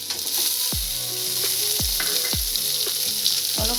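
Tomatoes fry in a pan with garlic, cardamom and cloves, a steady close sizzle with a few soft bubbling pops and occasional stirring, no voices.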